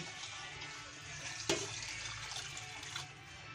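Water running steadily, as from a tap, while pancit is being cooked, a continuous broadband hiss with a brief sharp clatter near the middle, fairly close and with no talk.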